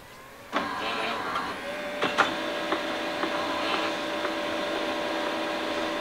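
Uninet iColor 560 white toner printer starting up after its cartridges are swapped, with a sudden onset of steady mechanical whirring and hum, punctuated by a few faint clicks and clunks, close and moderately loud, no talking.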